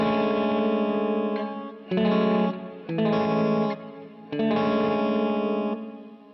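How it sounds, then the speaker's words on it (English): Electric guitar run through a Joyo pedal's hall reverb, playing sustained chords in several bursts with a soft, spacious tail, loud and alone with no talk. "Okay, very subtle on that hall reverb."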